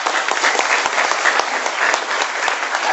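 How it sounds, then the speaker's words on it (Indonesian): A seated audience at a business seminar applauds, giving dense, steady clapping that stays loud and close throughout, with no voices standing out. "Oke, beri aplaus buat Anda"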